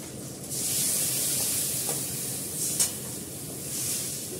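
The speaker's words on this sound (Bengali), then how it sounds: "এবার জল দিয়ে দেবো।" Water poured into a hot cooking pot of Chandramukhi potatoes and raw tomatoes, a loud steady hissing sizzle that rises at once and holds for several seconds.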